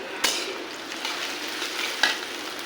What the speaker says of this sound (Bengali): এখন ওগুলোকে একটু ভেজে নিতে হবে এত বেশি ভালো হবে না হালকা ভেজে নিলেই হবে ভেজে নিচ্ছি